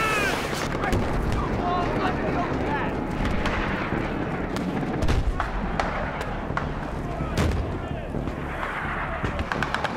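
Combat in Battlefield 3 gameplay brings repeated booming mortar and gunfire blasts, a dense run of sharp bangs and crackling over a continuous battle din, with radio-style voices mixed underneath.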